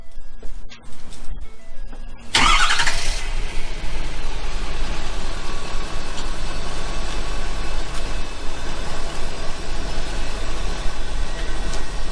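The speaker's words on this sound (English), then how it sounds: "we got to turn on the truck in order for this pump to work" A truck engine cranks and fires up after a short quiet stretch, then settles into a loud, continuous rumbling run, used to power a transfer pump for a 55-gallon drum.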